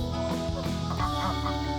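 Hens cluck and murmur softly in a coop at night during egg collection, several overlapping low calls, fairly close but quiet.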